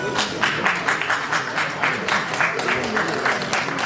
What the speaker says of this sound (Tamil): உங்களுக்கு கைத்தட்டெல்லாம் அதிகமா இருக்கு சார்.